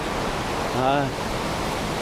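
Steady rushing roar of water pouring over a spillway in a park in Irishtown, a broad continuous wash heard close by, with a brief voice cutting through the middle.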